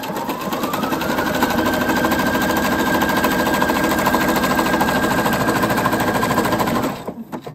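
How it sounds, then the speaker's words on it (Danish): Sewing machine running a zigzag stitch with decorative thread to make a net. It hums steadily and loud for about seven seconds as a continuous fast stitching drone, then stops. "Og bare det, de bliver syet med det her sjove tråd."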